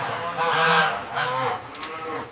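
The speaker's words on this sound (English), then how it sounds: "This is a goose." A goose honks loudly and close by in a series of harsh, nasal calls that fade toward the end, with no other sounds around them.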